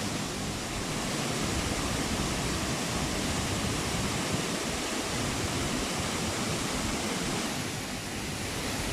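The Salto del Diablo waterfall on Río Claro near Támesis, Antioquia, Colombia, pours into a huge pool and stirs up strong wind, giving a loud, unbroken broadband roar that holds steady throughout with nothing else heard.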